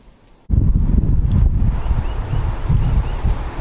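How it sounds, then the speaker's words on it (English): Strong wind buffets the microphone in a yard in Indiana after a brief quiet moment, producing loud, low rumbling gusts that surge and ease without pause. "it's windy as hell here in Indiana today"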